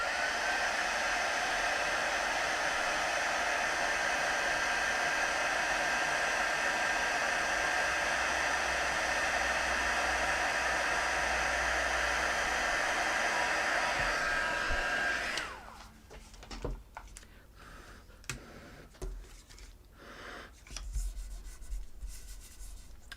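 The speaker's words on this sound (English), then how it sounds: "I'm gonna do the heat tool. So cover your ears" A heat embossing tool blows hot air in a loud, steady roar for about fifteen seconds during a cardmaking session, then cuts off, leaving quieter rustling and handling of paper.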